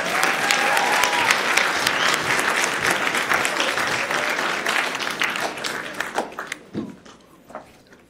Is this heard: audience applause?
yes